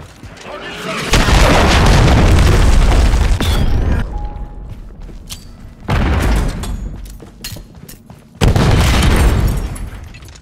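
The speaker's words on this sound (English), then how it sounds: "Hostiles launched a cruise missile" Heavy booming blasts from a cruise missile strike in the video game Call of Duty: Modern Warfare III, multiplayer, three loud rumbling bursts in sequence, each with a long roaring decay.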